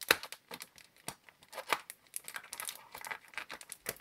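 Close, crinkly tearing and rustling of a plastic packet being ripped open, in several quick bursts with no voices.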